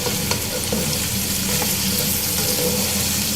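Onions fry loudly in a hot pan, a dense continuous sizzle with faint stirring clicks, close and steady throughout with no talking.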